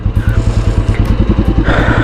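A motorcycle engine chugs with a fast, rough rhythm close by on a muddy, slippery road after rain, its putter steady and loud with slight rattling over the short stretch.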